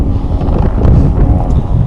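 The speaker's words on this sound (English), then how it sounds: "It's very windy. I hope you can still hear me." Loud, constant wind buffets the microphone, a low rumbling roar that fills the whole moment with no voice heard.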